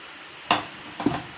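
Turmeric and asafoetida hit hot oil while tempering spices for a mango and ripe chilli pickle, giving a steady low sizzle with two short bursts of stirring or pan scraping.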